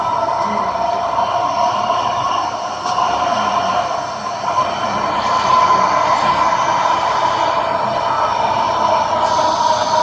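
A Bangalore Metro train runs in a train simulator game, giving a steady, loud rolling rumble and hum that continues throughout with slight swells and no talking.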